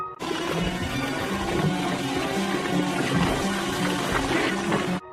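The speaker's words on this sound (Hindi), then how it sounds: "संयोग से खरगोश सीधे स्विमिंग पूल में गिरता है। इस पर वह जोर जोर से छटपटाता है।" Water splashes and churns steadily in a swimming pool as a cartoon rabbit thrashes about, a dense, continuous wash of noise that ends abruptly.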